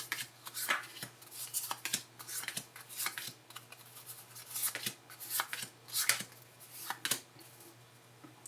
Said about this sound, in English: We'll deal 8 cards